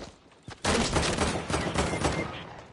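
Sniper and rifle fire in the video game Fortnite, a dense, loud burst of overlapping shots beginning after a quiet half second and continuing steadily to the end, with no voices.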